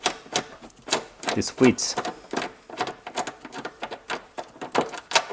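A 10mm socket ratchets on a bolt of a Toyota fuel tank cover mechanism, producing rapid clicking in irregular bursts close up, with someone speaking briefly over it.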